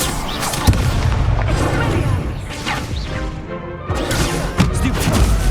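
Incendio fire spell blasts in the Hogwarts Legacy video game, a series of loud booming whooshes and crashing impacts in quick succession amid dense battle effects.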